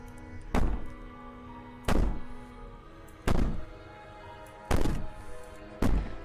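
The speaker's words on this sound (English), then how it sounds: "Bang on the door all you want, but it'll only make you bleed out faster." Heavy banging on a door in the video game Slay the Princess: five loud, hollow thuds spaced roughly a second and a half apart, each ringing briefly, with no talk.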